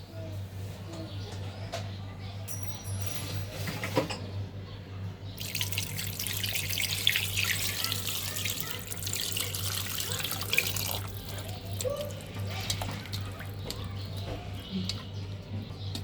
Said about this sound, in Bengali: মাখানো হয়ে গেছে, এখন পানি দিয়ে দেব।